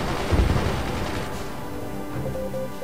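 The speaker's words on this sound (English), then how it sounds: "the enemy machine guns are shooting them down" Enemy machine guns in the strategy game Forts rattle away at mid distance, a steady busy clatter with a denser burst of impacts early on and a faint tonal hum toward the end.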